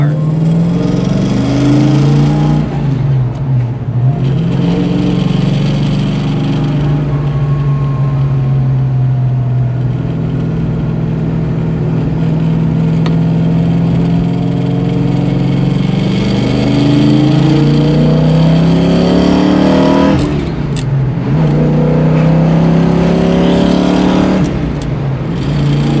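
A 1968 Shelby Mustang GT350 engine runs loud and close for a long stretch, its revs swelling and easing several times over a steady rumbling idle, with no voices.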